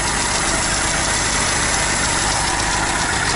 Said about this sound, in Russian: тут новый движок.